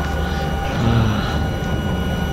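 An Alouette III helicopter flies low over the area between Nilai, Seremban and Kuala Pilah, heard from inside as a loud, steady broadband engine and rotor roar with no talking.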